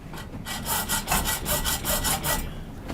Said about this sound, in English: So put this in the vise. Take the hacksaw and we'll start cutting.